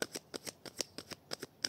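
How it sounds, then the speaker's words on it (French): Tarot cards are drawn one by one from a deck, giving a run of about a dozen quiet, close, crisp slides and flicks in an uneven rhythm. "Je prends 5 cartes."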